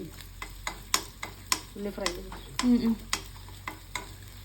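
Coconut pieces and shallots frying in a pan: a steady sizzle sits under repeated sharp strokes of a stirring spoon, with a few brief tonal sounds in the middle.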